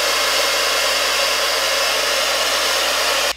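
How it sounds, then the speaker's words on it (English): A handheld blow dryer on its cool setting blasts a loud, steady airy roar very close up, then cuts off abruptly at the end. "I am going to take my blow dryer again on the cool setting and help everything"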